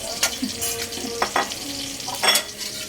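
Broccoli frying in a pan gives off a steady sizzle, broken by a few stirring scrapes and clinks close by, with no talking.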